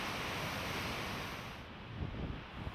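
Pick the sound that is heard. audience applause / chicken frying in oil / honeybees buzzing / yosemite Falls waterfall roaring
yosemite Falls waterfall roaring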